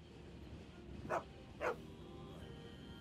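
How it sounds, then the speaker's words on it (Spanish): A dog in Mongolia barks twice from a distance, two brief, faint yaps about half a second apart over a steady outdoor hiss. "lo primero que se oye es un perro ladrando"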